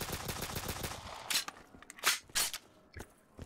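USP-45 pistol fire in a custom zombies video game: a rapid run of sharp shots in the first second, then several louder, spaced single cracks with gaps between, close and with no talk.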